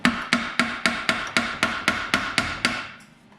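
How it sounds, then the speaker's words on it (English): A hammer taps on the rear axle of a Toyota 4Runner to knock it loose, ten evenly spaced metallic strikes roughly a third of a second apart, close and loud, ringing briefly after the last blow. "Just kind of tap it to get it loose."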